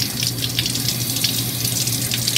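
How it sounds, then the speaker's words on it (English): Sprouted spelt berries get rinsed under a running kitchen tap, a steady loud stream of water splashing and gurgling continuously without pause. "sprouted spelt berries and give them one last rinse"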